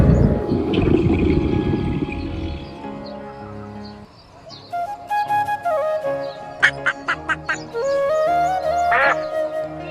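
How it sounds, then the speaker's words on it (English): Duck quacking, a few short nasal calls close up, following a louder burst of mixed sound at the start. "duck"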